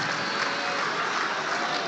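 Audience applauding at a halal bi halal gathering, steady sustained clapping from a sizeable crowd at moderate loudness, with no pauses throughout.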